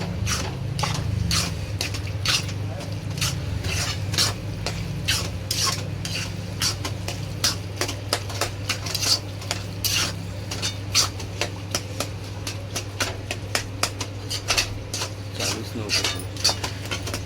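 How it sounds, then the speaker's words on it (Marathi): A spoon stirs masala in a kadhai while bheja fry cooks: steady close scraping and clinking strokes in a quick repeating rhythm over a constant low hum, with a brief voice near the start. "आता मिक्स करा"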